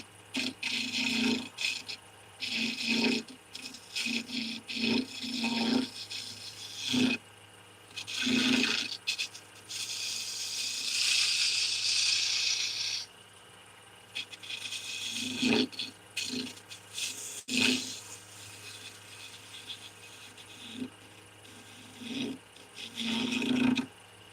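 A wood lathe spins a pen blank while a skew chisel cuts it, giving repeated short scraping and rattling bursts with pauses between, and a longer, hissy shaving stretch in the middle, close and fairly loud.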